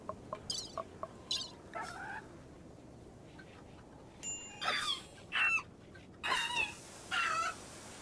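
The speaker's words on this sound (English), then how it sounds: "Don't worry, it's just the chickens playing." Chickens in the Rimworld video game, a string of short clucks and squawky bursts scattered over several seconds, rising to louder, closer calls near the end against a quiet background.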